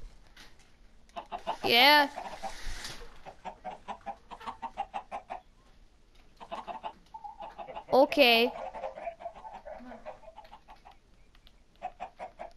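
A chicken in a video game gives loud squawks twice, each set off by runs of rhythmic clucking, while people talk briefly in the background.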